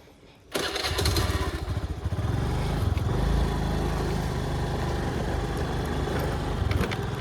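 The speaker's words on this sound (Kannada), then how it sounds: "ಸ್ಟಾರ್ಟ್ ಮಾಡ್ತೀನಿ ಗೈಸ್ ಗಾಡಿ" A motorcycle engine starts with a quick burst and settles into a loud, steady running rumble close by, with no talk over it.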